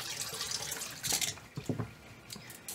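Hot water draining out of a sink after handspun yarn has soaked in it, a steady close rush of running water with gurgling bursts near the end.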